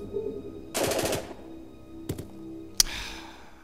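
A short automatic burst of rifle fire from the video game Jagged Alliance 2 rattles out loud and close, followed a moment later by two single sharp shots.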